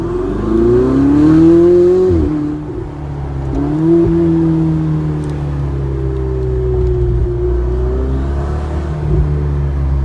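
A Ferrari 488 Spider convertible driving in eco mode, its engine a steady loud drone that rises with a couple of gear shifts, close and continuous.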